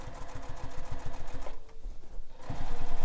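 A sewing machine stitches bag fabric with a lengthened stitch and a backstitch, its needle chattering in a fast steady rhythm up close, briefly easing off before running again at full speed.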